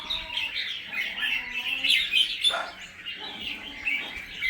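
A songbird sings close by in a continuous stream of bright chirps, whistles and trills, with no other voices.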